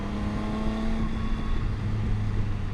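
Triumph Tiger 800 XCA motorcycle engine running steadily under throttle, a continuous close drone whose pitch rises slightly as revs build, with no talking.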